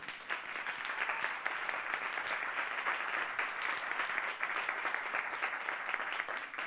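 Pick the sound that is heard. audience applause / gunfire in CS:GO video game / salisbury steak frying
audience applause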